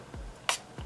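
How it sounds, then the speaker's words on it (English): Makeup setting spray from a drugstore bottle gives one short, bright hiss of mist that stands out clearly from quiet room noise, with faint handling sounds before and after. "It does have a nice spray, as you guys just saw."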